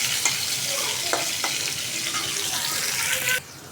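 Potatoes fry in oil in a pan with a loud, steady hiss and a few clinks of a utensil, the sizzle cutting off abruptly near the end.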